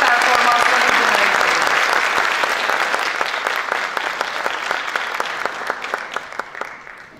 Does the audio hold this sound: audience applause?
yes